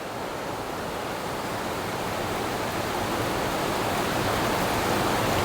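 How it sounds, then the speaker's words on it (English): A waterfall on a hiking path in northern Bali roars as a steady, dense broadband rush, continuous and fairly loud with no breaks, unseen yet still at a distance. "There's always an ascent to a waterfall, and I love the anticipation when you can quite clearly hear it,"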